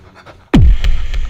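A man imitates a panting dog, producing a sharp, loud breathy burst followed by rhythmic, huffing pants close to the microphone.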